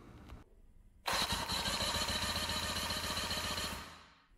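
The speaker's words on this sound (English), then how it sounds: "we can move on to doing a compression test." A 1982 Mercury 40hp two-cylinder outboard motor cranks over on its starter during a compression test, a loud, steady, rapidly pulsing churn that starts abruptly, runs for about three seconds and then winds down, with no talking.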